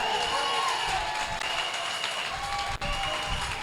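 A church congregation applauds in a continuous, dense wash of clapping that fills the room, loud and close, with crowd noise and a brief dip near the end.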